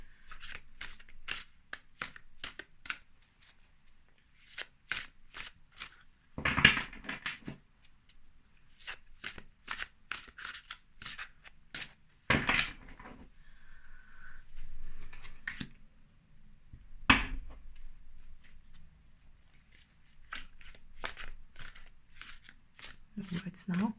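Tarot cards shuffled by hand in repeated quick riffling bursts and soft flicks, close and crisp, with a few louder card slaps and someone talking quietly in between.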